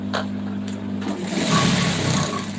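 Sewing machine stitching cloth at home, a continuous close mechanical whirring hum with a rapid needle rhythm throughout.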